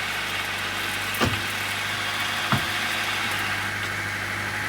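A Honda Civic engine idles with a steady low hum after a clutch install, with two brief soft thumps partway through; no one speaks.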